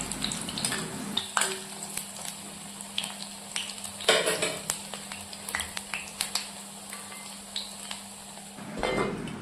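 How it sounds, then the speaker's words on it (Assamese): Lentil pakoras fry in oil in a pan, with a continuous sizzle broken by repeated clinks and scrapes as the fritters are turned, close and fairly quiet. "আকৌ ঢাকনখন লগাই দিছোঁ আৰু গল্ডেন ব্ৰাউন হোৱালৈকে এইখিনি ভাজি আছোঁ"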